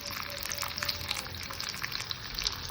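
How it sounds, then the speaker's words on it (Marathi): Dried coconut frying in hot oil for a mutton curry, giving a steady, close crackling sizzle with fine popping throughout and no voices. "मम्मी सुकं खोबरं फ्राय करून घेते."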